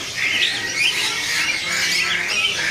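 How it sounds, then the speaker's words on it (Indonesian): A red-winged woodpecker gives harsh, squawking calls at a bird kiosk, repeated in quick ragged bursts close by over a faint background hum. "Di sini ada burung pelatuk sayap merah ya."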